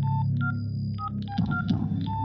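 A mobile phone number is dialed in a movie scene, producing a quick run of short electronic keypad tones with brief pauses between presses. The tones are close and clear, with a low background murmur.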